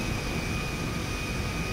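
An airplane engine in the video game GTA 5 Online drones steadily for under two seconds, a broad, constant roar with a thin high whine running through it, and no speech over it.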